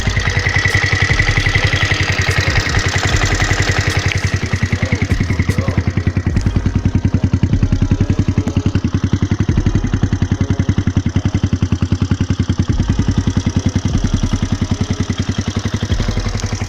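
A 50cc motorcycle engine idles steadily and loudly up close, a fast even putter with mechanical clatter that holds level for the whole stretch, with no voices.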